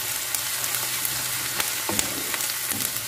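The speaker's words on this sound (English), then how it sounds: "And now we're going to add the garlic." Garlic fries in a pan with prawns and pork, producing a continuous bright sizzle with occasional stirring clicks and scrapes close by.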